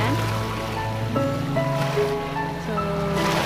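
Steady wash of sea waves at Bacong Beach Resort on the seashore, a continuous near surf roar with layered tonal music running over it and no breaks.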